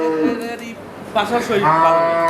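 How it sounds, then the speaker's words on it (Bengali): A dairy cow moos nearby at a cattle sale with a long, drawn-out low call, while a person talks around it. "এগুলো কত কেজি দুধ দিবে রশিদ ভাই"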